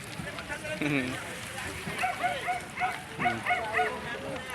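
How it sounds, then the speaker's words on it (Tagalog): A dog by the water, swimming and trying to reach its owner, lets out a few sharp barks and yips amid excited talking and shouting from people nearby. "Galing nga yung aso."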